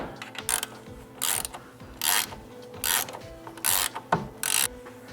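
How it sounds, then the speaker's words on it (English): A hand ratchet tightens suspension bolts on a Chevy Cruze during a lowering spring install, heard as bursts of rapid clicking, about six quick pulls spaced roughly evenly, loud and close with mechanical clanks between. "just go ahead and tighten everything down."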